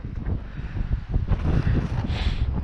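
Strong wind buffeting the microphone out on the ice while ice fishing in frost, a steady loud rumbling roar with gusting swells and rustle, no voices.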